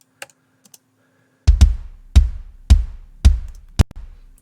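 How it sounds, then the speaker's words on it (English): Blended kick drum samples from a rock mix hit five times in a steady beat: punchy, low thumps with a sharp click on top, each decaying quickly, after a few faint ticks at the start. "this is a kind of a blend that I came up with of several different samples called Quitting Time Kick"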